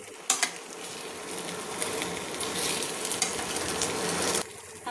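Brinjal coated in masala being stirred in a hot frying pan, giving a steady close sizzle with scraping strokes and a couple of sharp spoon clicks at the start, no voices.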